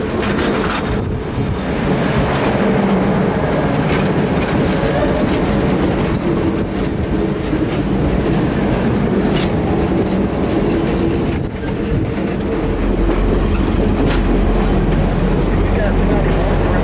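CSX train rolling over track during a switchback move, a loud continuous rumble with rhythmic wheel clatter and some squeal, close and sustained throughout with occasional talk beneath.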